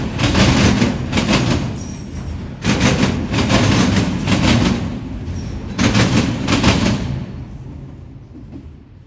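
Norfolk Southern local freight train passing, a loud close rumble broken by repeated rhythmic clattering bursts of cars crossing rail joints, fading toward the end.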